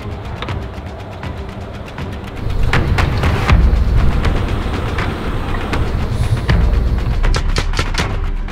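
Paintball markers fire repeatedly during an outdoor battle royale game, giving a string of sharp, crackling pops over a steady rumbling background, with dense bursts in the middle and toward the end.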